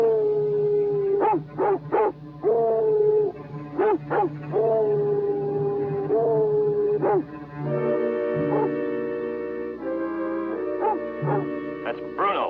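A dog in a snowy mountain setting howls in long wavering cries broken by sharp barks and yips, loud and near, with a voice speaking among the calls.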